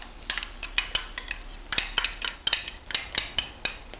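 Garlic and red onion sizzle in canola oil for Cantonese fried rice, a soft frying hiss punctuated by frequent sharp scrapes and clinks of a utensil stirring against the pan in an irregular rhythm, close by.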